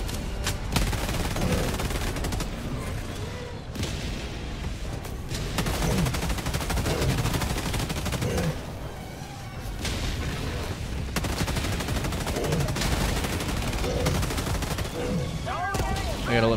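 Sustained automatic gunfire from a player's weapon in the sci-fi shooter Helldivers 2, dense and continuous bursts with brief pauses, layered with explosions and game effects, loud and close throughout.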